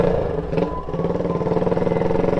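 A Yamaha Scorpio custom chopper motorcycle rides fast through a residential neighborhood, its engine a close, loud, steady throbbing drone with rapid firing pulses, and no one speaks.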